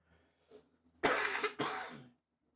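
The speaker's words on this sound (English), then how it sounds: "Sorry, I've been having a cough the last few days." Two harsh, loud coughs in quick succession, close up, after a faint breath, with no talking around them.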